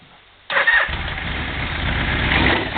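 A warmed-up Yamaha Venture motorcycle engine catches abruptly from near quiet and settles into a steady, close idle that holds to the end.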